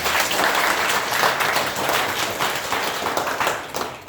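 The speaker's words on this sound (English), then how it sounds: "Let's give them one more round of applause." A crowd at a briefing for S.6 candidates gives the teachers a round of applause, dense and sustained clapping filling the whole stretch at steady loudness.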